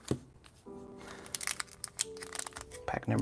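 Foil Pokémon card booster pack torn and crinkled open by hand indoors, a run of sharp crackling rips and rustles up close, with no talking.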